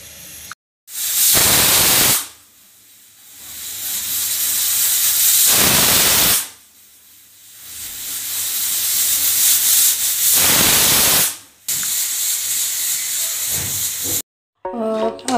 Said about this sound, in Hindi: हमने कुकर में इसे रख दिया है पकने के लिए।